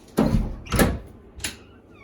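A pantry door in a home kitchen is opened, giving three close thuds and rattles in an uneven sequence, the last one softer.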